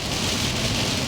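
Heavy rain pounds a vehicle driving south on the I-75 highway at about 48 miles per hour, a dense, loud, unbroken hiss of water and road noise with no talk over it.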